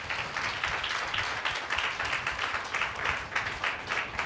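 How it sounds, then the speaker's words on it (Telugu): A church congregation claps along in a brisk, steady rhythm, the many hands blending into a lively patter that carries on without pause. "చప్పట్లు కొట్టి దేవుని మహిమపరచు"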